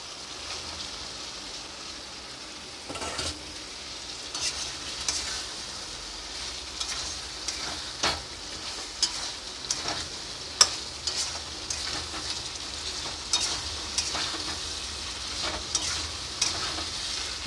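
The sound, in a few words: chicken being stir-fried in a pan (butter garlic chicken)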